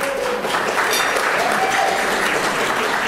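Gala audience applauding during opening remarks as honorees are named, a loud, sustained roar of clapping from a large crowd, steady throughout.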